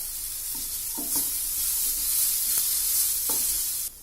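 Garlic, tamarind and chilies sizzle in a hot pan for drumstick leaf chutney, with a steady frying hiss broken by a few sharp scraping stirs of a spoon.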